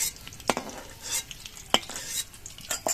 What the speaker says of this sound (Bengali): এবার এর মধ্যে আমি ক্যাপসিকামগুলো ভেজে নিচ্ছি